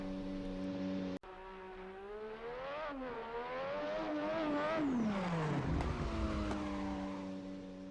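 Onboard a car as it suddenly loses grip, the engine revs and wavers in pitch, climbing and dipping loudly before dropping away, with no talk.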